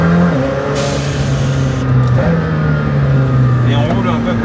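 Several hypercars cruise on a closed road, their engines a steady droning hum with shifting pitch, close and continuous under someone talking.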